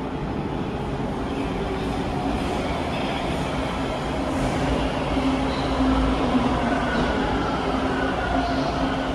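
A Toronto TTC subway train rumbles steadily in Ossington Station at rush hour, a low continuous roar with faint metallic squeals and hiss, no talking.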